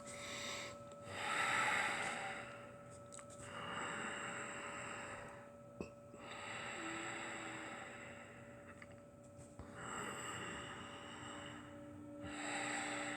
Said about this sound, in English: And then I like to take 3 deep breaths.